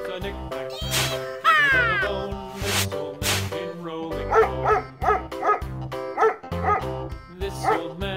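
A dog barks a few times, mixed with a cat's meow and other animal calls over a bouncy musical backing.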